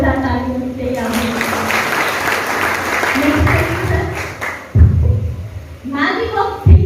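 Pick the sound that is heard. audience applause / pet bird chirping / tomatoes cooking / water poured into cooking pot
audience applause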